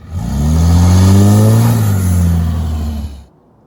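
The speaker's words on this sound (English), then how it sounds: "A rusted 3rd gen Cummins." A rusted third-generation Dodge Cummins diesel truck engine revs up loudly and close, holds a heavy rising drone for a few seconds, then cuts off abruptly into silence.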